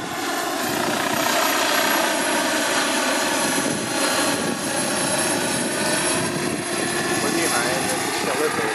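Mi-24D Hind helicopter on a test flight, a loud steady rotor and turbine roar filling the whole stretch, with people talking inside over it.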